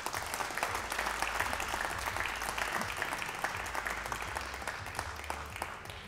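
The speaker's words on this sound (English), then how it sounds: "Crowd appreciating that one again" Applause from the crowd fills a pool hall at a world 8-ball championship match, steady dense clapping that holds for about six seconds with no talk over it.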